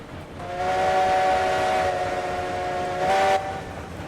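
Steam locomotives in RailRoads Online, with a steady steam whistle over the rumble of the train, followed by a short, stronger blast near the end.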